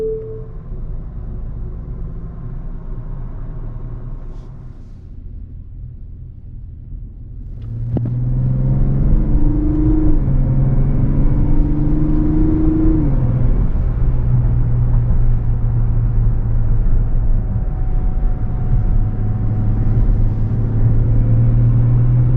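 A Mazda CX-90 with a 3.3-litre turbo inline-six idles low, dips, then fires up and climbs through the gears, its engine note rising and falling in steady steps as it accelerates.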